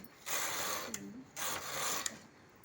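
A domestic knitting machine carriage slides across the needle bed in two sweeping passes, each a soft mechanical rattling whir ending in a small click, quiet and close with no talking.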